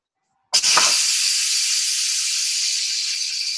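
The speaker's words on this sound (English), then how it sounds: "it's going to be a lot of steam and maybe some spit come out" Steam bursts from an Instant Pot pressure release valve with a sudden loud onset, then holds as a steady, forceful hiss for several seconds.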